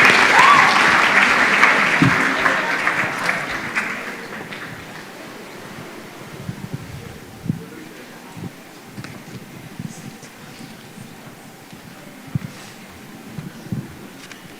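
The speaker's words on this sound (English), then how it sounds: "Another round of applause for the team from Joytown." An audience applauds the Joytown team at a formal event. Clapping is dense and loud at first, then thins and fades over several seconds to a few scattered claps against a quiet room.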